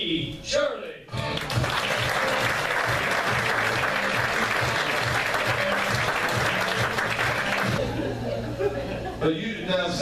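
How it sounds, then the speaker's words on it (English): Loud, steady audience applause with cheering at a comedy club greets comedian Brian T. Shirley, filling about seven seconds before fading back toward a voice. "Big round of applause for Brian T. Shirley."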